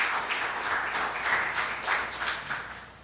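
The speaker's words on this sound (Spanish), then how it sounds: "Vale la pena que usted le dé un fuerte aplauso por esta poderosa realidad." A church congregation claps along in a steady rhythm, rapid even handclaps heard at moderate loudness for a few seconds.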